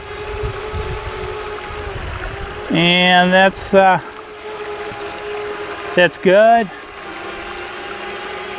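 DJI Spark drone flying at extremely low altitude over the Black River, a steady whirring buzz running throughout, with a nearby voice speaking briefly twice over it.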